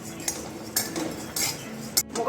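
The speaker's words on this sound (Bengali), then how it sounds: "এরপর আমি মগজদানাটা একটু নেড়ে ছেড়ে নিচ্ছি।" Melon seeds dry roasting in a pan while a metal spoon stirs them, giving a few brief scraping clinks against the pan at uneven intervals, close and fairly quiet.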